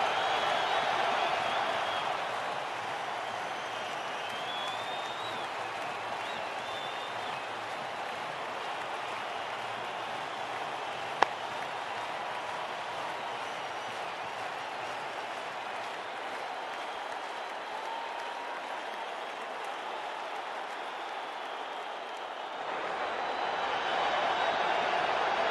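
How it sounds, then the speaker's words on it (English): A cricket video game crowd cheers and applauds after a six in a Sri Lanka vs Ireland match, a steady, loud wash of clapping and roar that carries on without a break and thins near the end. "Crowd's gone mad."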